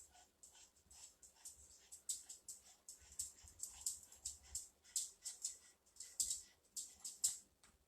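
A dog begging for food at a table whimpers and yips in a string of high, thin whines, quiet and close, coming in irregular bursts.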